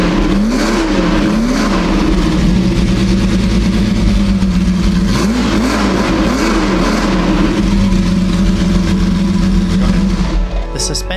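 The V12 engine of a Lamborghini 350 GT runs steadily at close range, a loud, continuous mid-pitched drone with a few brief rising revs, and a voice speaks over it.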